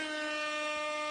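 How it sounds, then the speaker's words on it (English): An air horn sound effect blares in one sustained, bright, steady blast lasting just over a second, loud and alone with no talk over it. "You can't give yourself an air horn for my game."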